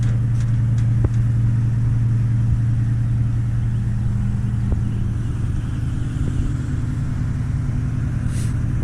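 An old vehicle engine runs at a steady, low, rumbling idle, loud and close, with a few faint clicks over the constant drone.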